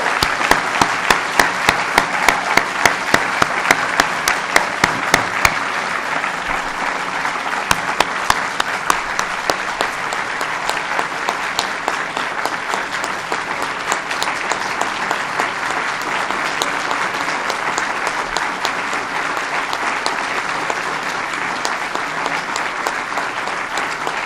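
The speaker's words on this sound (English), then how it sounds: "one more big round of applause to Jeffrey Gundlach." Sustained audience applause at an announcement event at the Albright-Knox Art Gallery, a long, even, loud crowd clapping that holds steady for over twenty seconds, with sharp individual claps prominent early on.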